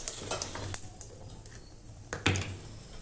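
Cumin seeds and dried red chillies hitting hot oil in a pan, a steady crackling sizzle with a few sharp pops and utensil clinks, close and continuous without talking.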